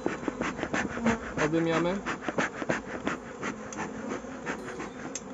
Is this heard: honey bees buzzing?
yes